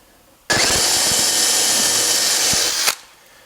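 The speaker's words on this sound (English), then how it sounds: "start drilling right there" A power drill bores into wood in one loud, steady run of about two and a half seconds, starting and stopping abruptly, up close.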